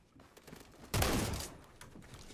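A single loud shotgun blast from the Phantom Forces video game on Roblox. It fires suddenly and decays over about half a second, between quieter background game sounds.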